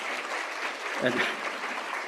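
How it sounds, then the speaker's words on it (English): A crowd at a graduation and hooding ceremony claps steadily throughout, a dense wash of applause with a single spoken word rising briefly in the middle. "I didn't mean to solicit an applause"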